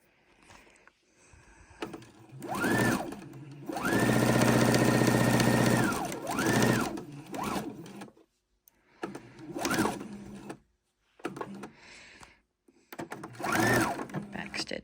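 A sewing machine stitches an apron seam and back stitches, running in whirring bursts of a few seconds, some long and steady, others short, with quiet pauses between them.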